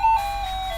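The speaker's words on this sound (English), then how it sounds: "there's a very noisy toy just behind where I've got the camera set up, so she decided to press the button on it" Electronic toy sounding after its button is pressed, a loud bright tone jingle burst lasting under a second, close and alone without talk.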